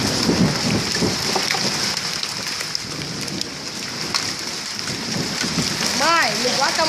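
Heavy hail pounding down in Nova Iguaçu, a dense, steady roar of ice striking surfaces close by, with a voice calling out briefly near the end.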